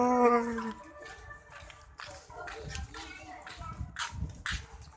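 A dog whines and yelps with a drawn-out high cry at first, followed by scattered barks and yelps among other sounds, with voices nearby.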